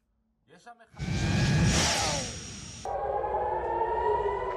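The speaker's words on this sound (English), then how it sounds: "Sirens wailed throughout south and central Israel" A loud air raid siren wails continuously in Israel during a missile alert, rising and holding a steady tone, with a short burst of voices just before it begins.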